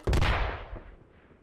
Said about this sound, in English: a rocket lands near Lord Chaka here